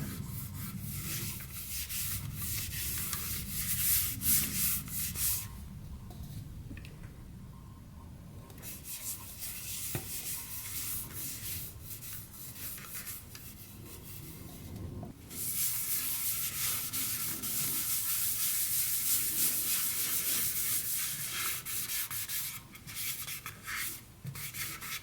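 Walnut oil rubbed by hand onto a turned piece of heart and sap wood, a steady soft hissing friction that surges and eases in long strokes with brief gaps.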